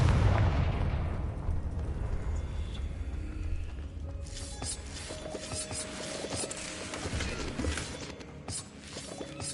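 A Confringo blasting spell explodes in the video game Hogwarts Legacy, a heavy low boom at the start that rolls off and decays into scattered crackles and lighter impacts.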